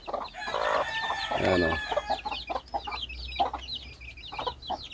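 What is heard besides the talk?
chicks and chickens clucking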